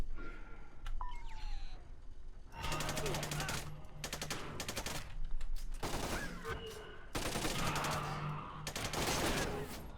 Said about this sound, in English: I hate how inaccurate sometimes these guns are, but they are meant to be fired in bursts